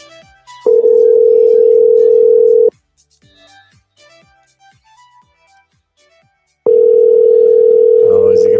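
Two long steady ringback tones from a telephone call waiting to be answered, loud and unbroken, separated by a quiet gap with faint background sounds.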